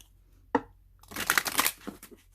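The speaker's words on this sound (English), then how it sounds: "I'm gonna shuffle again" Oracle cards being shuffled by hand give a sharp snap followed by a dense burst of papery riffling and flicking, close and fairly loud, with no talking.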